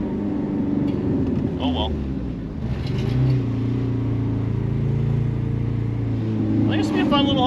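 A 1983 Turbo Coupe engine held at wide open throttle, running rough with a steady droning roar and wavering pitch, close and loud under a voice talking throughout.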